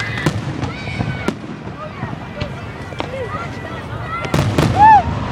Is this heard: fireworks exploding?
yes